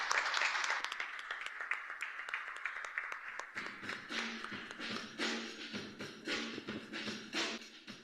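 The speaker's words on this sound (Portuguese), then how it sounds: "Uma salva de palmas ao Senhor, igreja." Church congregation applauding after a prayer during a Portuguese-language service, scattered distinct claps at low volume that grow into irregular bursts of clapping with some reverberant room sound.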